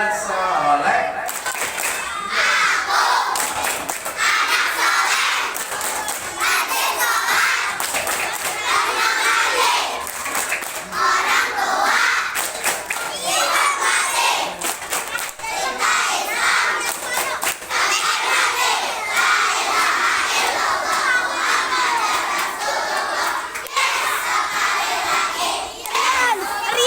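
Elementary school children at a Ramadan Islamic school session chant and clap together in the 'tepuk anak soleh' routine, a loud, continuous crowd of young voices shouting rhythmically with hand claps throughout.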